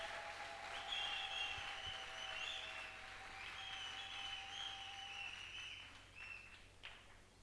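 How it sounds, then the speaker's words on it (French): A church congregation applauding and cheering loudly during a French-language sermon, sustained dense clapping for several seconds with shrill whistles or cries on top, slowly fading toward the end. "Est-ce que nous pouvons encore acclamer très très fort?"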